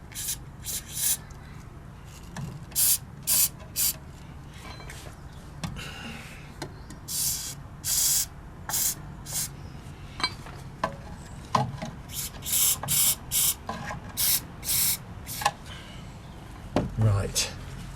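Bursts of spray from a WD-40 penetrating oil can without its straw nozzle, aimed at a VW Golf Mk5 brake caliper, come as a long series of short hissing blasts of varying length, close by, with some talk.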